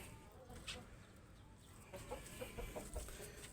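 Chickens cluck in short, scattered bursts over steady background noise, moderately close, growing busier toward the end, around a newly built coop for young chicks.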